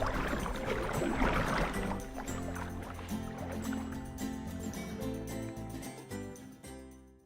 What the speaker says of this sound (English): let's get paddling